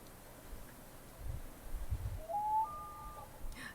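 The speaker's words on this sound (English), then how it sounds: "Loon noises." Faint, thin wavering call of a loon drifting over a lake in a video game, a short rising tone followed by a held note, quiet and distant against soft ambient background.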